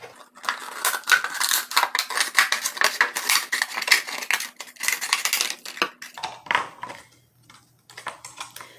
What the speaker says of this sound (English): So then I'm going to cut this portion apart from this top portion.